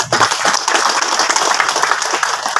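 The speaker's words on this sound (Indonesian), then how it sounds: "Tepuk tangan dong." An audience at an Islamic sermon gathering breaks into dense, steady applause that stays loud and even for a couple of seconds, with no voices standing out.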